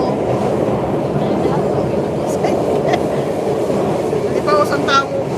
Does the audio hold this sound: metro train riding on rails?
yes